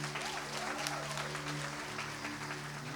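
Church congregation applauding for the church's 106th anniversary, a steady wash of clapping over a low sustained organ or keyboard tone that holds throughout.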